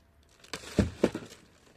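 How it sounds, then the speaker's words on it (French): Plastic protective wrap peeled off a new EVERCROSS scooter, a few soft close crinkles and rustles, quiet and brief. "on enlève la protection plastique qui protège complètement la trottinette."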